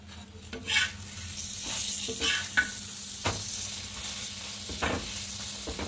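Naan paratha cooks in a pan over a medium flame, giving a steady close sizzle with a few soft stirring or scraping touches throughout.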